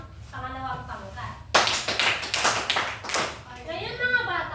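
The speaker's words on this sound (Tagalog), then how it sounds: "bigyan naman natin ng 5 palakpak ang pangalawang pangkat" A classroom full of children claps for the second group after a TLE demonstration, loud rapid applause bursting in after a voice and continuing in waves for about three seconds before voices return.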